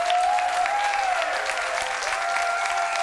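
Sustained audience applause on a television talk show for Miners' Day, a dense steady clapping crowd under a held musical tone, continuous for the whole stretch.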